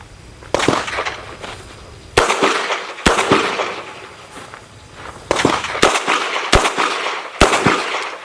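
Shots from a small revolver fired at a steel target on a range, six sharp, loud cracks spaced irregularly over several seconds, each with a short echoing tail and quiet gaps between.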